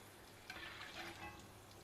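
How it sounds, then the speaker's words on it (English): Thin raw banana slices fry in hot oil for chips, giving a soft continuous sizzle with a slightly busier crackling patch in the middle, heard close and quiet with no talking. "Fry it till they become nice and crisp."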